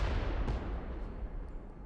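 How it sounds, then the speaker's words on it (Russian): A deep, roaring video game explosion rumbles through the whole stretch, dense and loud with low booming noise and no voices. "Это был взрыв."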